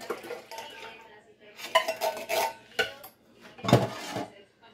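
Two cans of coconut milk poured and scraped into a bowl for almond coquito, several close clinks and knocks of metal against a container with pouring between them, and no talk.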